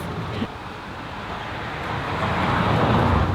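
Steady road traffic on a very busy street outside a front yard garden, a continuous broad rush of passing cars that swells slightly louder toward the end, with no voices.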